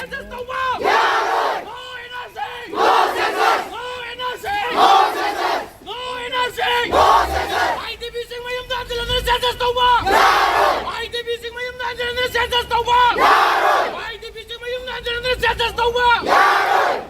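Crowd of demonstrators shouting and chanting in rhythmic bursts at a street protest where effigies are being burned, loud massed voices surging and pausing repeatedly over several seconds.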